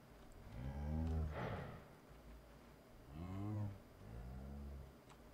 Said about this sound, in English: A lot of cows.